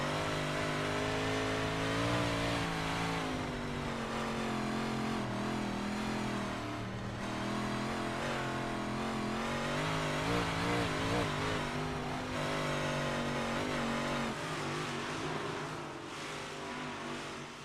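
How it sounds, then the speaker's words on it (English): Race car engine in the iRacing simulation at Snydersville Raceway, held below full throttle, a steady, fairly quiet harmonic drone that rises and falls slightly in pitch as the car laps, with no voices. "Pretty interesting to hear Fox never really get to full throttle."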